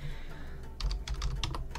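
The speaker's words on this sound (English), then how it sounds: "Sorry, I'm typing as well as you can see" Rapid clattering keystrokes on a computer keyboard come in quick bursts, close and clear, after a short quiet stretch.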